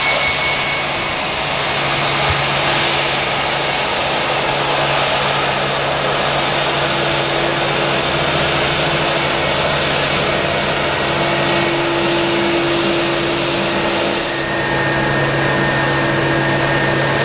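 An airliner takes off from runway 05 at Madeira Airport. Its jet engines roar loud and close for the whole stretch, a continuous dense rumble with a steady tonal whine and no voices.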